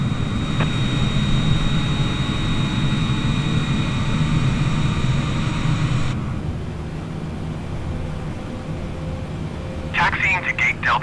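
A jet airliner taxis to the gate in a flight simulator, its steady loud engine whine droning under radio chatter, dropping in tone partway through.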